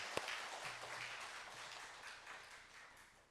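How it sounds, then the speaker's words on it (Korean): A church congregation claps for its choir at a worship service, a soft, steady wash of applause that sounds distant and fairly faint, with no voices over it. "우리 찬양대와 찬양대 우리 큰 박수로 한번 격려해 주셨으면 감사하겠습니다"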